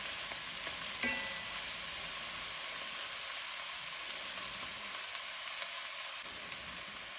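Chicken pieces fry in a pan for pancit, giving a steady close sizzle with soft crackles and an occasional faint clink of a utensil, with no talking.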